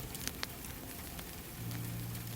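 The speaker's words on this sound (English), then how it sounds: "The rain." Soft steady rain patters in a wash of fine hiss, with a few faint sharper drips and a low hum nearby.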